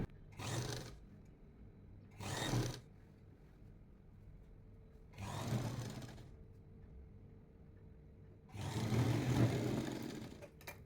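A sewing machine stitches the seam of an elbow puff sleeve on a kurti, running in four short bursts of whirring, the last one longest, with quiet pauses between.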